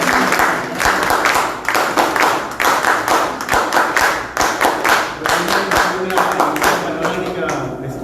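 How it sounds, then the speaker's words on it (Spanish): An audience applauds at a conference event, a sustained burst of clapping from many hands that stays fairly loud and close, with a voice speaking over it. "fuertes palmas por esa"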